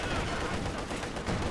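Tank cannon and gun fire in a multiplayer war game match, a dense, continuous rumble of distant shots and booms rolling under the noise with no clear gaps.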